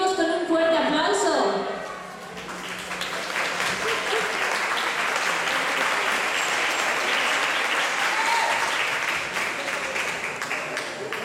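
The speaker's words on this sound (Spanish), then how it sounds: "Lo recibimos con un fuerte aplauso" Audience applause at a Rumbamba show, rising after a brief lull into steady, dense clapping that fills the room and continues for several seconds at full strength.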